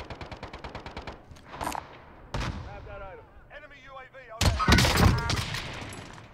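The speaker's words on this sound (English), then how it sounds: "I'm getting shot at by somebody else now" Bursts of automatic gunfire in a Warzone match: a rapid string of evenly spaced shots at the start, then isolated single cracks and a loud, dense volley near the end, with voices talking over parts of it.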